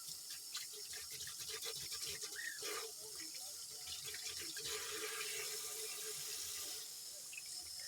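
Tap water runs steadily into a kitchen sink while something is rinsed underneath, a continuous close splashing hiss with small clatters, no voices.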